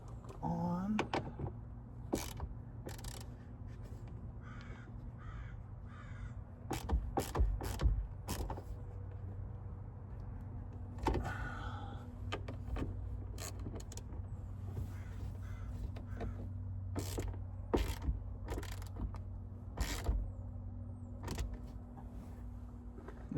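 A wrench fits an interior door handle in a 1995 second-generation Toyota 4Runner. Scattered sharp clicks and metallic ticks come in irregular bursts over a quiet cabin background.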